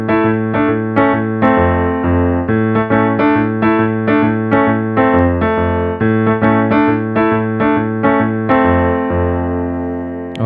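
Piano plays the opening verse of a song, a steady, bouncy run of repeated chords over a low bass line, close and loud with no talking, the last chord ringing out.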